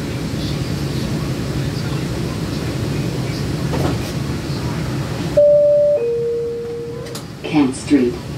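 An MBTA Green Line CAF Type 9 light-rail train rumbles steadily along the C Branch toward Cleveland Circle, then slows, with electronic chime tones and a recorded announcement voice over the running noise.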